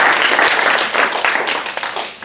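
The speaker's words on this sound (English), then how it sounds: "Give a round of applause again for the negative" Audience applause after a demonstration debate at a debate institute: dense, steady clapping from a crowd, loud and close, fading slightly toward the end.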